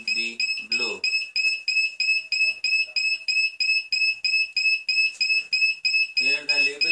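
Buchholz relay tripping alarm sounding during relay testing: a loud, high, pulsing electronic alarm beeping in a steady fast rhythm throughout, with faint voices and machinery noise underneath.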